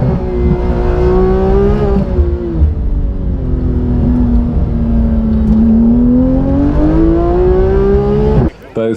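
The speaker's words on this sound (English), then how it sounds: "you'll see the scramble bikes twice a day having their races." Scramble motorbikes race at the Pageant of Power, with engines droning loud and continuous, pitch rising and falling as they rev and pass before cutting off abruptly near the end.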